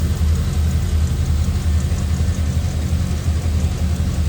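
A 1932 Ford Roadster street rod with a flathead V8, three-carb setup, Edelbrock heads and removable hood idles steadily nearby, a deep even rumble with a loping low throb that holds throughout.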